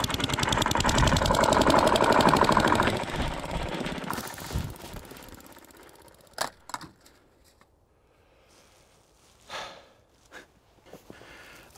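Pneumatic wood plane running outdoors in cold weather and underperforming: a loud buzzing rattle for about four seconds that sputters and fades, followed by short bursts of hissing air and scattered clicks.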